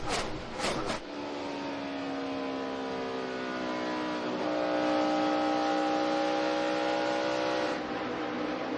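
NASCAR Sprint Cup stock cars on new tires at Michigan in 2011, heard from an in-car view as drivers roll out of a corner and go back to full throttle, engine pitch climbing steadily in a loud, continuous drone.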